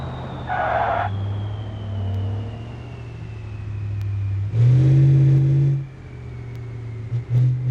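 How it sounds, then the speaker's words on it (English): A turbocharged truck engine in the driving game BeamNG revs up and eases off, its steady drone rising into a loud, strained surge midway before settling, with a faint turbo whine above it. "Some of that beautiful turbo noise there."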